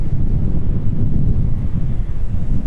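Strong gusty wind at an airport rumbles steadily across the microphone, loud and continuous, with nothing else audible.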